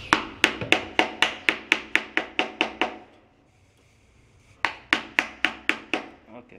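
Hand carving of a wooden Hulk sculpture's chin, done without power tools: a rapid run of sharp, evenly spaced mallet-and-chisel taps, a brief pause, then another quick burst of strikes, all close and loud.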